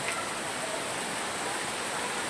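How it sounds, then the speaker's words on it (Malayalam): Steady rain falls outside a house on a dark, overcast morning, a constant even hiss of drops with no voices. "ആ മഴ ഇവിടെ അപ്പോഴും ഉണ്ട്"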